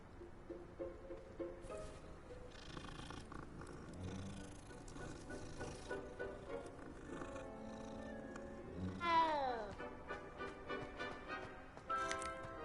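A cat in the video game Hogwarts Legacy gives several soft mews and a purring murmur, close and fairly quiet over a low background ambience, ending with a rising drawn-out meow.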